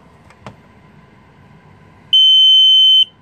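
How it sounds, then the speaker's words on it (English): A single loud, steady electronic beep from a Hansshow automatic frunk opener installed on a Tesla Model 3 sounds for about a second after near silence. "Okay, that's the setting beep"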